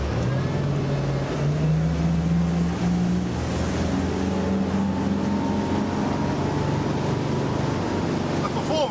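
A Windy 39 Camira motorboat with twin Volvo D6 400 engines on duoprop outdrives cruises with a steady low engine drone under rushing water and wind noise, close and continuous throughout.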